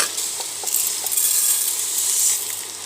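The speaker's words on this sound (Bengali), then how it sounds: "ডালটা দিয়েছি, এবার একটু ভাজা ভাজা করে নিই" Lentils and crushed garlic fry in a pan with a steady, close sizzle, while a utensil stirs them now and then with a few soft scraping knocks. No voices are heard.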